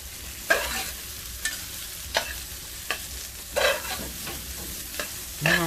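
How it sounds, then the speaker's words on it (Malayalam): Four sliced onions fry in a pan for a Kerala beef dish, with a steady soft sizzle beneath repeated scraping strokes of a spoon stirring them at a slow, regular pace, close and unaccompanied by talk. "ഇനി നമുക്ക് സബോള ഒന്ന് വഴറ്റിയെടുക്കാം."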